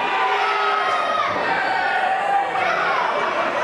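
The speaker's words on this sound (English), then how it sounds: "he got a mixed response from this capacity crowd" A capacity crowd at an independent wrestling show in Elburn gives a loud, sustained mixed reaction, a dense wash of cheering, shouting and chatter filling the arena throughout without a break.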